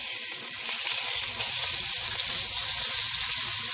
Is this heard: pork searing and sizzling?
yes